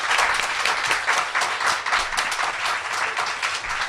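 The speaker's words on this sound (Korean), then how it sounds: "박수 한번 주세요." A studio audience at a Korean talk show breaks into steady, dense applause that holds at an even level for a few seconds, with no talking over it.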